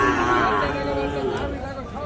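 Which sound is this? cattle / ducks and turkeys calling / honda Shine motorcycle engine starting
cattle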